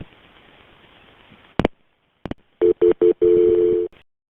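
A telephone handset places a call: faint hiss and a couple of sharp clicks, then a quick series of short DTMF dialing tones ending in one longer tone, with no voices.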